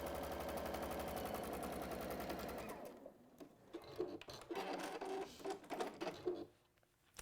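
A sewing machine stitches along a seam with a fast, even needle rattle for about three seconds and then stops. Quieter handling clicks and rustles of fabric being realigned follow.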